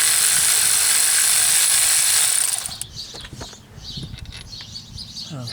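Long-handled ratchet wrench working lug bolts loose on the rear wheel hub of a 1998 Corvette C5: a loud, steady broadband whir for over two seconds, then quieter scattered clicks and knocks nearby.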